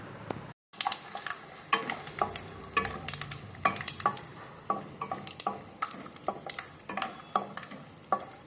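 Food frying in peanut oil in a pan for a vrat recipe, a soft background sizzle broken by repeated sharp clicks and scrapes of a spoon stirring against the pan, close up and without speech.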